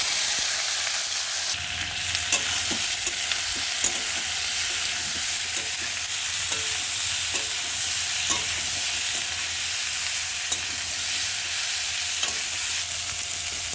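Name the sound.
young jackfruit and potatoes frying in a pan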